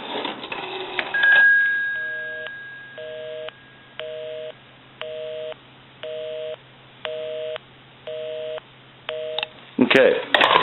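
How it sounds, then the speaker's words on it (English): Several short, evenly spaced electronic tones repeat in a steady on-off pattern on a repaired Stromberg Carlson 554 telephone, preceded by a brief rising beep and clatter. "Give you some dial tone."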